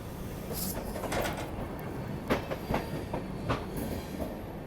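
The 12801 Purushottam Express runs near Mirzapur, its wheels giving a steady rumble with several sharp clicks and clacks spaced irregularly, moderately loud and without talk.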